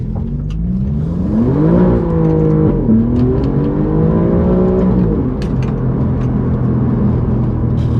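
An Alfa Romeo Giulia GTA M in race mode pulls hard through the gears, its engine note climbing, dipping at a shift and climbing again before easing off, loud and close inside the car, no talk.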